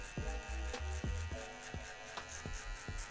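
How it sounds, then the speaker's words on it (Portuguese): An electric finishing trimmer buzzes in short, repeated bursts as it shapes the low back of a fade haircut, switching on and off several times at close range. "E agora a gente vai usar a maquininha de acabamento"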